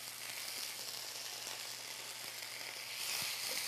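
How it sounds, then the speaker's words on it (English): Green beans saute in a lemon dressing in a pan, giving off a steady, close, even sizzle with faint crackles and stirring, and no voices over it. "what we're wanting to do is just saute the green beans in the lemon dressing that we're making here"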